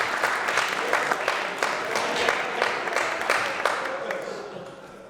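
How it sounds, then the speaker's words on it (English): Wedding guests applaud for the camera crew, a steady dense patter of many hands clapping that holds for several seconds and tapers slightly at the end, with voices mixed in. "The cameramen, give them a clap."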